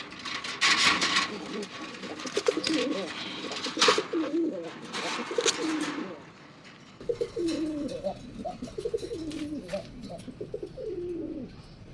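Soft, repeated coos from a pair of Kaldum pigeons rumble through the clip, with brief bursts of rustling or fluttering in the first half.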